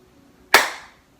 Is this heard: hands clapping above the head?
yes